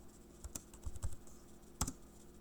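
Typing on a computer keyboard in a terminal: a few sparse, quiet key clicks spaced unevenly over a couple of seconds, close by with no talk.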